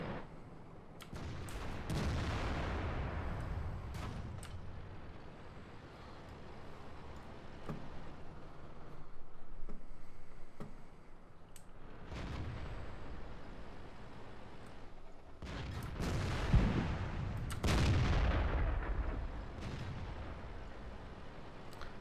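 Tank cannon fire in the video game World of Tanks: several heavy booming shots spread over about twenty seconds, each a deep blast with a rumbling tail, set apart by quieter stretches of engine and ambient battle noise.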